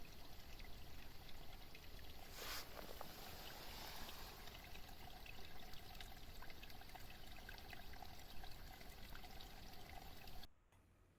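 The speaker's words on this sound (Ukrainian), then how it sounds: "Струмочок дзюрчить" A small stream trickles steadily through a short channel dug by beavers in Ukrainian nature, a constant soft babbling wash with a brief splashy swell early on, then cutting off abruptly at the end.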